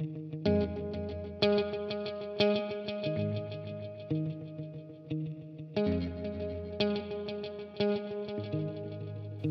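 Looped guitar chords from a Strymon Volante pedal repeat in a steady cycle, each strum trailing into a wash of springy reverb that lingers and decays between phrases.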